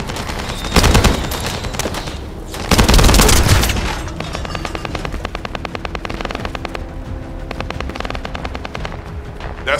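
Rapid bursts of automatic gunfire in the video game The First Descendant, with loud booming volleys, then a steady, evenly spaced rattle of shots continuing to the end, no voices.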